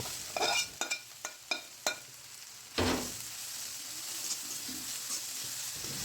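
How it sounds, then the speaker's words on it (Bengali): Several sharp scraping clicks of a utensil stirring grass pea greens in a pan, over a steady low sizzle of frying, then quieter sizzling continues alone. "তারপর কিছুক্ষণ ভালো করে নাড়াচাড়া করে নেব"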